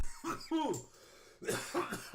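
A few rough coughs in close succession, loud and near, with a brief voiced sound between them.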